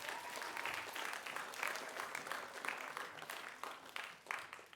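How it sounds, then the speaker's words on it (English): An audience at a middle school spelling bee applauds the judges, with steady clapping from many hands filling the room for several seconds. "Let's give them a round of applause."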